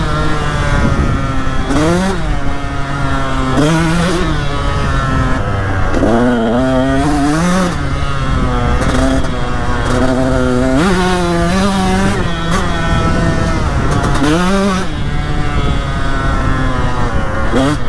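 A 2021 Beta 480 RR dirt bike ridden on a West Virginia trail, its engine loud and close throughout, rising and falling in repeated throttle blips and revs with a rough, buzzing tone.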